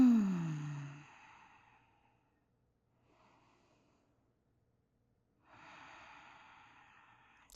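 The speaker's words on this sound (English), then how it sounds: "Take 3 deep breaths with me." Slow deep breaths during a yoga class in child's pose, a long audible exhale fading into near silence, then another soft breath several seconds later, close and quiet with no talking.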